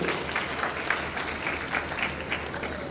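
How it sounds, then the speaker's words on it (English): A crowd of guests, teachers and students at a Sino-Bangla day celebration gives sustained applause, a thick, even roar of many hands heard at a moderate distance. "Let's give a warm round of applause to welcome all of you."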